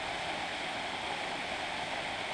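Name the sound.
waterfall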